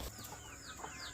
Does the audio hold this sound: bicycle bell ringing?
no